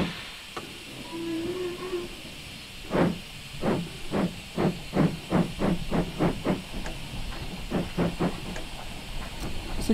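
Ivatt steam locomotive in Train Simulator giving a steady background hiss, then a run of rhythmic chuffs that start slowly and pick up pace, with a brief low tone near the start.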